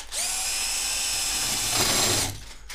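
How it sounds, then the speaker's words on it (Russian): A power drill fitted with a spade bit whines steadily into an old plastered wall, a loud continuous high-pitched motor tone that bites in more roughly near the end before stopping abruptly. "На сверлении погнали."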